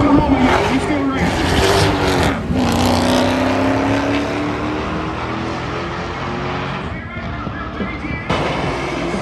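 Race cars driving down a track at a racing event, giving a loud, sustained engine roar that shifts in pitch as they pass, heard alone and close.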